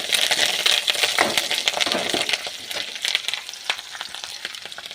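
Garlic dropped into well-heated oil for a Tamil flower poriyal, giving a dense, close crackling sizzle with sharp pops and scraping stirs throughout, no voices.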